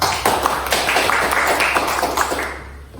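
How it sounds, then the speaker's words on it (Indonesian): Children in an Indonesian Islamic religious education classroom clap their hands together for about two and a half seconds, a dense, close patter of many small claps that then fades out. "Beri tepuk tangan sama-sama."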